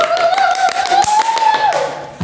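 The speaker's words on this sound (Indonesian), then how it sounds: "tepuk tangan dulu" A few people clap in a small podcast studio, with close, distinct hand claps and taps in an uneven rhythm. A drawn-out vocal tone rides over them before the claps thin out.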